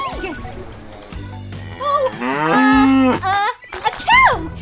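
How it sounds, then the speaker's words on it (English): A cow moos loudly with a long, drawn-out low call, followed by a shorter rising moo, set against light background music. "A cow! Yeah, a cow!"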